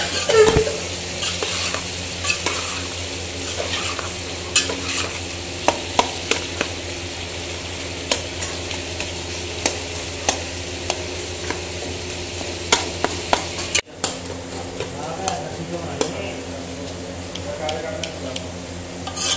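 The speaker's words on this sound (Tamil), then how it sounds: "நல்ல சிவப்பு கலர்ல வர்ற மாதிரி நல்ல வெங்காயத்தை நல்லா வதக்கி எடுத்துக்கறலாம்" Onions with ginger, garlic, green chilies and salt sautéing in a pan for biryani, a steady soft sizzle broken by sharp clicks and scrapes of a spoon stirring against the metal.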